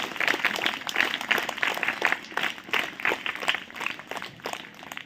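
A crowd of listeners claps hands continuously in a dense, lively patter of applause that stays loud and steady throughout, with no talking over it.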